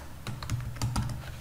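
Typing code on a computer keyboard while writing Node.js Swagger documentation: a quick burst of close, crisp key clicks over about a second, with no talking.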